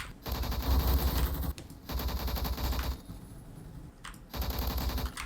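Sustained automatic fire from an AUG rifle in Phantom Forces, loud dense bursts with brief pauses between volleys, no talking.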